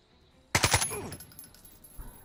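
Gunfire in the tactical game Jagged Alliance 3: a sharp burst of about three close, loud shots in quick succession, followed by a fading echo and a faint later thump.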